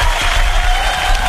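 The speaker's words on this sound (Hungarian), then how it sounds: "Ez az, tapsal együtt" Short burst of steady, loud applause from a small group in a radio morning show studio, a dense clatter of clapping with no gaps.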